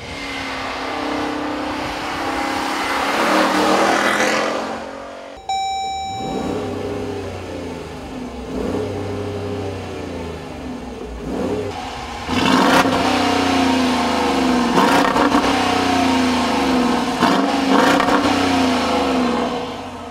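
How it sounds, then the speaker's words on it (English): A 2014 Dodge Durango R/T's Hemi V8 revving close by: a deep engine roar rises, cuts briefly, then surges again in several strong revs with a brief beep mid-way and no talking. "Hemis always sound really friggin' good."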